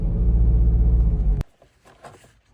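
Renault Trafic 1.9 dCi diesel van engine idling with a close, steady low rumble that cuts off abruptly after about a second and a half, leaving faint knocks and rustling.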